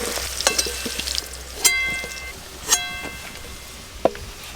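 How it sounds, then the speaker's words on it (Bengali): Potatoes frying in hot oil in a home kitchen pan, a steady close sizzle with a few sharp clinks and stirring knocks. "আলুগুলো আরেকটু লাল লাল করে ভেজে নেব"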